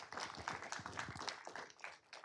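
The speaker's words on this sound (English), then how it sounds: "Let's give them a round of applause." Audience applause for a group of Scouts at a city council meeting, a steady spread of many hands clapping at moderate volume and lasting throughout.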